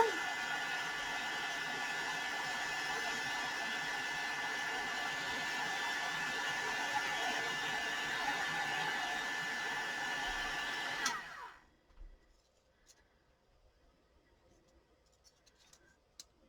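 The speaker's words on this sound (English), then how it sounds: "I just use my little stylus tool here to hold on to these as I direct that heat onto the embossing powder." A heat tool melting embossing powder gives off a steady, airy blowing whir with a faint high whine for about eleven seconds, then cuts off, leaving near silence with a few small taps.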